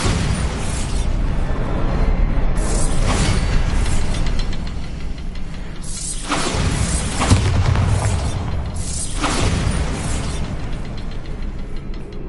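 In the video game Hogwarts Legacy, a Bombarda blasting spell sets off heavy booming explosions that rumble loud and sustained, two or three big blasts rolling into one another with debris-like crackle and no talking.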